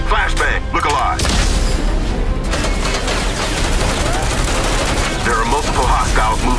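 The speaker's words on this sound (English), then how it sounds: "Flashbang! Look alive!" In the video game Firewall Ultra, a flashbang goes off alongside dense gunfire bursts and booms. The loud, continuous battle noise runs under game voices shouting callouts.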